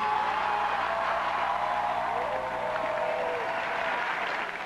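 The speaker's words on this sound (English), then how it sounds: "And the crowd responds, Viva il Papa, the unofficial hymn of every papal event" A large crowd of young people greeting Pope Benedict XVI in Turin with a broad, sustained wash of applause and cheering, heard from a distance and steady throughout.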